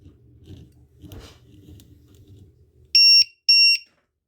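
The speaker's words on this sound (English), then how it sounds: "You guys know these things beep loud when you plug them in." An RC battery checker beeps loudly twice in quick succession as a 7.4v RC battery is plugged in, after a few seconds of low handling noise and clicks.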